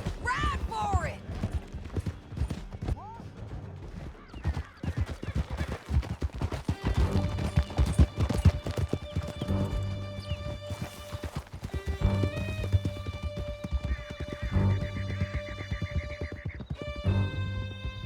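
Horses galloping through a canyon in Red Dead Redemption 2, rapid hoofbeats and snorts mixed with scattered gunfire, shouted dialogue and game music, with a whinny early on.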